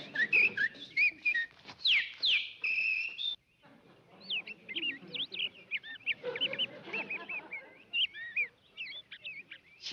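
A pet bird whistles in a quick run of bright, chirping trills, loud at first and then in a looser string of warbling calls, with faint background voices underneath.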